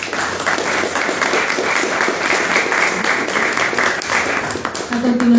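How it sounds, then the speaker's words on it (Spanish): Sustained audience applause at a Spanish-language magazine presentation, a dense, steady wash of clapping throughout with a voice emerging near the end. "les voy a pedir un aplauso para mis compañeros"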